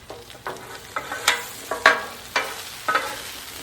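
Potatoes frying on a Blackstone griddle, with a soft steady sizzle broken by repeated scraping strokes of a spatula turning them, roughly every half second, close and moderately loud.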